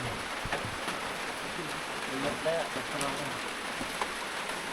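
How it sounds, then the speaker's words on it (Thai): Rain falls steadily in a rural Lao village on a cold day, a continuous soft hiss with scattered drip patter, while someone talks quietly nearby. "หนาวเนาะมื้อนี้ก็ฝนตก"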